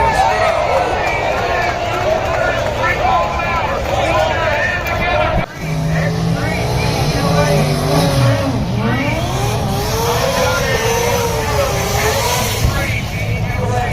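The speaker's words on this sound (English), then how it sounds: "Fastest T56 LT1 powered car in the world." A T56 LT1-powered race car accelerates hard at an FL2K street car and stick class event, its engine roaring steadily and loudly throughout, with people talking over it.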